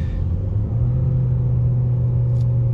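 A 2017 Ford Escape engine hums steadily under acceleration, its pitch stepping up slightly as a gear is shifted, heard from inside the car with a constant low rumble.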